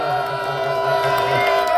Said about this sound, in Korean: 안소영님한테 응원의 함성 한번 질러주세요